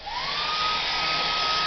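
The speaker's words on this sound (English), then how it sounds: "bust out the hairdryer" A hairdryer blasts steadily up close, drying acrylic paint on a small fountain under restoration, its whine rising slightly in pitch as it spins up and then holding a constant, loud airy roar throughout.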